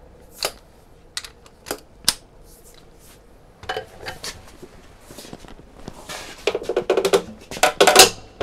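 A torque wrench clicks sharply on a nut already tightened by a Topshak TS-PW3 cordless impact wrench, with scattered single clicks and handling noise early, then a denser burst of metallic clicks and rattles toward the end, up close.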